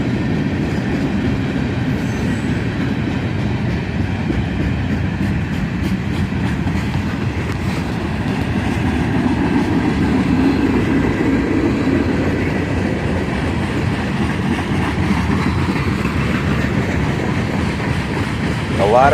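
Northbound CSX manifest freight train led by ES44ACH and ES44DC locomotives rolls past with many covered hoppers, a loud, steady rumble of wagons and rhythmic wheel clatter, with a faint squeal near the end.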